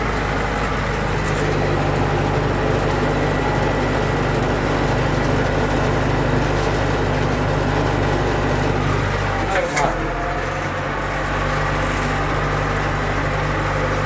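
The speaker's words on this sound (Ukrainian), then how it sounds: "Ось така робота однорядної копалки з трактором хата 504." A KATA 504 tractor working with a one-row potato digger, a loud continuous low engine drone with a brief clunking disturbance partway through, close and steady.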